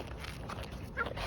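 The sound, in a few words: puppy whimpering and barking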